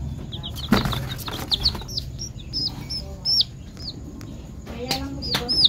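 Week-old chicks chirp in high, thin peeps that come in short repeated bursts across several seconds, close by, with wing flutters and some handling noise, and a voice speaks briefly underneath.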